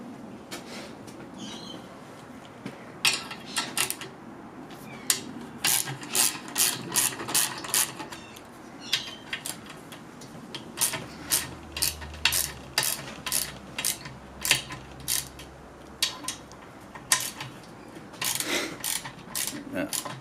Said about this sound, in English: First we need to remove the old hose reel using this Sid Chrome 1/4 inch drive ratchet and